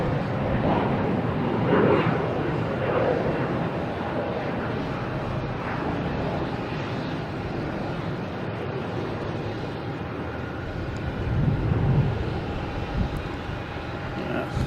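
A jet airliner taking off at night at Logan Airport, a broad, sustained engine roar at middle distance that swells and eases with wind noise, with a voice talking over it.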